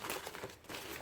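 A plastic rain poncho crinkles and rustles as it is handled, giving a short burst of close, soft crackling.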